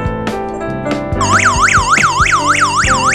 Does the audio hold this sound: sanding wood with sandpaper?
no